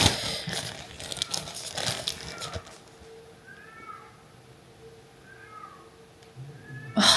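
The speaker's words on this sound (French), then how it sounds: "Il y a un chat qui est coincé en haut depuis des jours." A cat stuck upstairs for days meows a few times, faint and distant, thin cries after some rustling and handling noise.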